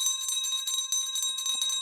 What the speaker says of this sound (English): perhaps a ringy ding of that bell